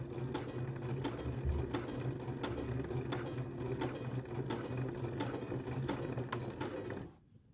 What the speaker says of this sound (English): this machine's doing like a lock stitching effectively. And then you are sewing up to your 11 centimeter indication line.